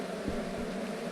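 Bees buzz steadily in the video game Ranch Simulator, a continuous close droning hum lasting about a second with slight pulsing.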